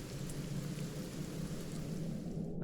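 Steady rain hiss with a low rumble of thunder in the video game Divinity: Original Sin Enhanced Edition, a continuous even wash with no talk.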